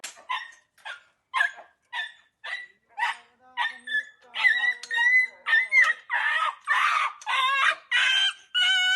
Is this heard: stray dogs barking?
yes